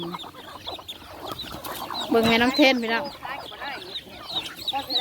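Chickens cluck and squawk around a rural backyard poultry setup, a burst of loud close clucking mid-way amid scattered softer calls, with a person talking over parts of it.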